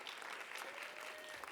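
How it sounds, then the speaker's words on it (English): An audience at a school writers week event applauds, a faint but continuous patter of many hands clapping through the whole short stretch. "Clap it up."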